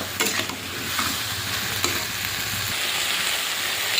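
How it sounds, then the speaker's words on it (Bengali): Pieces of okra sizzle steadily in a hot pan, with a spatula scraping and stirring near the start. "এবার ঢ্যাঁড়সটা ভালো করে ভেজে নিই"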